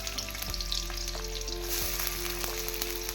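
Onions sizzling steadily in a small amount of oil in a hot wok, a dense continuous crackle with a few light stirring knocks.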